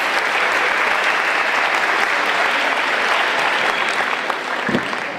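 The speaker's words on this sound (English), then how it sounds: "Let's give another big round of applause for 2019 Mustang Legends inductees." A large crowd at a high school alumni honors event applauds the 2019 Mustang Legends inductees, loud, dense and sustained clapping that fills the room evenly from start to finish.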